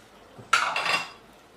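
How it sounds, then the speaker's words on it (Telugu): Cut drumstick pieces tumble into a pan of masala curry: a sharp clatter of pieces hitting metal, then a short rattle as they settle, close and alone. "ఇప్పుడేమో ములక్కాళ్ళు కట్ చేసి ఉంచుకుని ఇందులో వేసేద్దాం అండి"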